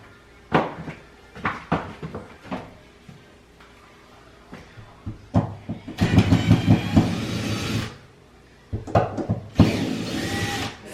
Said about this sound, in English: Getting ready to go in with my drill to take this top